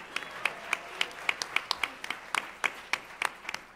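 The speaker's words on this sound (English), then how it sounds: "Please give her a big round of applause." Audience applause at a talk on Attorney General Jeff Sessions's policies, faint and thin, with scattered separate claps from a few people at a moderate distance.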